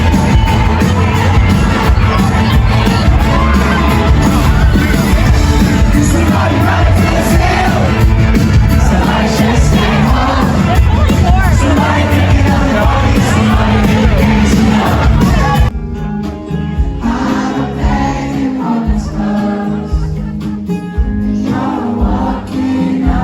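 A concert crowd at a Paris venue roars with loud, dense cheering, whoops and shouts for about fifteen seconds, then drops away to a thinner, quieter murmur of scattered voices and noise.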